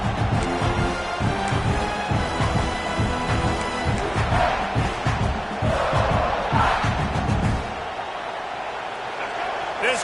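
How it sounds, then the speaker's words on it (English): Football stadium crowd roaring steadily at a loud, dense level to rattle the offense, a continuous wash of voices with a slight drop near the end, under commentary. "This crowd trying to make life miserable for this offense."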